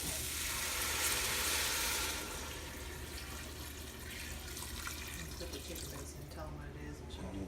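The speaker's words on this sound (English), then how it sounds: "I'm just gonna put enough water in there to cover it." Water runs steadily into a pot of green beans, a broad rushing splash for about two seconds that then settles into a quieter trickle and faint kitchen noise.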